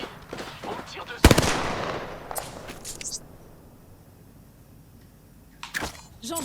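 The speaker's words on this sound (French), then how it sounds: "On me tire dessus." Gunfire in the video game Apex Legends comes as a sharp loud burst followed by rapid shots and another volley later, with a low background in between.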